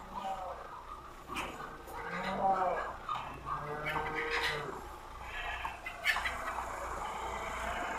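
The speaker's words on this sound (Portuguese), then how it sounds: "Que bacana o som de galinha, vaca, um monte de animais" Farm animals in Euro Truck Simulator 2 call in the distance, turkey gobbles and clucking amid a busy rural ambience, with a voice talking over it.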